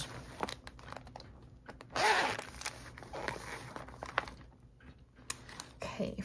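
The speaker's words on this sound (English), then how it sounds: "It's a cute little zipper pouch." A zipper is pulled open in a quick rasping burst, surrounded by soft rustling and handling noises close by.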